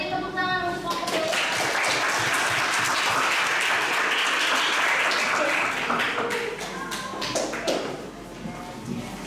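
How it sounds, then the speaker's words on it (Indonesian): A classroom of students claps for a group after its presentation, a dense burst of applause that builds, holds for several seconds and then thins into scattered claps, with voices and shuffling audible underneath. "Beri tepuk tangan untuk kelompok B."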